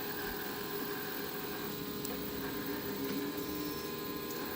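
A 3D printer works through a test pattern, giving a steady, continuous motor whir and hum with faint stepping tones throughout, close by and with no talking.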